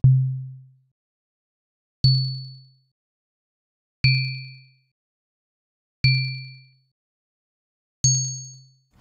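Five evenly spaced synthesized tones, each a low hum with added high sine harmonics, fading quickly, about two seconds apart with silence between.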